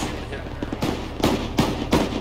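Gunfire in the ArmA 3 military shooter, a handful of sharp, heavy shots spaced irregularly, about five distinct cracks over a steady low background rumble.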